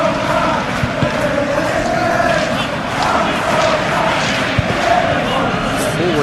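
Stadium crowd at a Liverpool vs PSG Champions League football match, a loud continuous roar of thousands of voices with swelling chants and surges, steady throughout with commentary-like voices faintly underneath.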